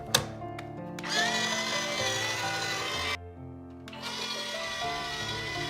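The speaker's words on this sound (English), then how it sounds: "Use the power drill to take the truck apart and put it back together again." A take-apart toy truck's toy power drill whirs with a steady electric buzz, pauses briefly with a dip, then runs again, close and fairly loud against a faint background.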